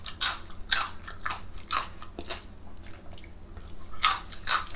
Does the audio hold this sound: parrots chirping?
no